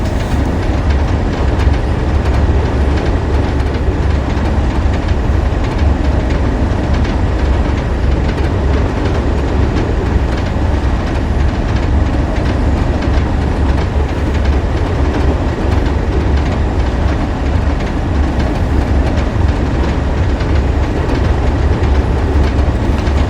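Train running on rails in Train Sim World 3, a steady continuous rumble of wheels and rail noise with faint rhythmic clatter, loud and close throughout with no talking.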